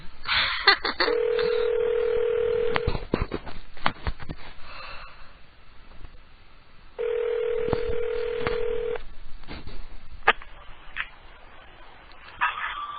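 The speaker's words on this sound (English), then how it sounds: "let's grab the phone, and let's just dial willy-nilly" A telephone lifted for random dialing: a steady dial tone runs for a few seconds, sharp keypad clicks and tones cut in, and the dial tone comes back, heard close and alone over low line hiss.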